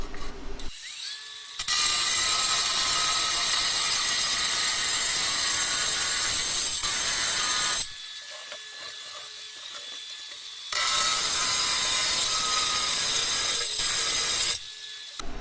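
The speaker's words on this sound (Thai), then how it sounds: "อ่ะมาลองตัดกระเบื้องกันดูบ้างนะครับ" A TEH LG125N cordless brushless 4-inch angle grinder cuts through ceramic tile, its loud, harsh whine running in two long sustained passes with a short quieter gap between them, no talking.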